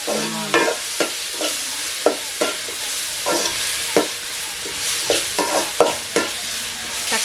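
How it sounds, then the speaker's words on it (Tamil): Tomatoes and onions sautéing in a pan for a snail gravy sizzle steadily up close while a utensil scrapes and stirs in a regular rhythm of repeated short strokes, with no voices. "தக்காளி வெங்காயம்லாம் இந்தளவுக்கு அளவுக்கு வதங்கினது போதும்"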